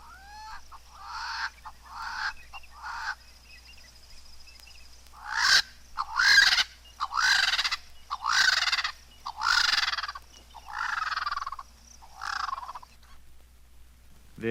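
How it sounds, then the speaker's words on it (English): Yellow-necked spurfowl in the East African bush giving a series of deep, hoarse, harsh crowing bursts, several rhythmic calls repeated in quick succession, loud and close with no other sounds around. "The yellow-necked spurfowl has a deep hoarse crow, which is a characteristic sound of the East African bush."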